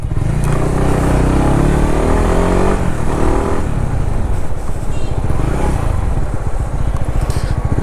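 A 2021 Honda CBR 150R with dual-channel ABS ridden on a dusty road, its engine a loud steady drone mixed with heavy wind rumble, pitch shifting as the rider eases off and picks up speed.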